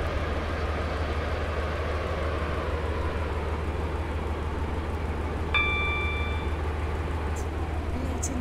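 Continuous low rumble of a Roblox train running toward Leighton Stepford Road station on the Stepford Central to Leighton City route, with a short chime partway through and no speech.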